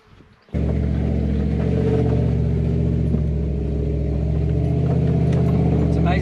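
A Toyota Hilux LN106 with a 1UZ V8 and automatic four-wheel drive starts moving on a muddy track after a quiet moment, its engine a loud, steady low rumble over a hum of road noise with a faint voice beneath.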